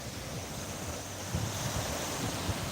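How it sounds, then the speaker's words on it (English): Surf rolls onto the Black Sea shore in a continuous, moderately loud wash, with wind buffeting the microphone and no voices. "We can hear the roar of the sea."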